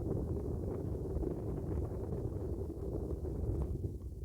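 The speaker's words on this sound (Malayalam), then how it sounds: "നമ്മളെ കൈ നിൽക്കാത്ത കണക്കുള്ള കാറ്റാണ് ഭയങ്കരമായ കാറ്റാണ്" Steady, heavy hill-top wind buffeting the microphone, a continuous low roar with gusty rumble throughout, close and loud.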